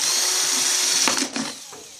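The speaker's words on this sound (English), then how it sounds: "sometimes you'll need to turn your drill bit and reverse it back out" A power drill whines steadily at high speed boring into a heavy plastic container, then cuts off abruptly into a few clunks and a fading spin-down.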